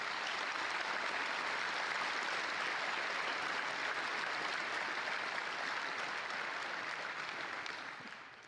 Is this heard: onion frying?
no